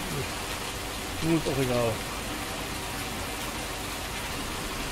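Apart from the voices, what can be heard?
rain falling, from the video game Farming Simulator 19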